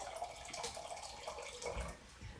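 Water runs steadily from a kitchen tap while a meal is being prepared, a soft continuous splashing stream heard fairly quietly and close, with no talking.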